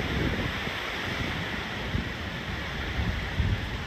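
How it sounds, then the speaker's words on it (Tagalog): Strong typhoon wind roars steadily outdoors near houses and a small hut, with broadband gusting noise buffeting the microphone throughout and brief louder surges. "Lakas talaga ng hangin."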